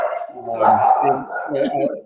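A dog barks in an office setting, a few yips and bow-wows heard close by and mixed in with people talking over it throughout.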